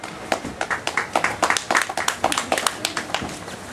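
A wrestling crowd at an XBW tag team show claps and cheers in an uneven, steady patter of hand claps, close and moderately loud, with faint voices mixed in.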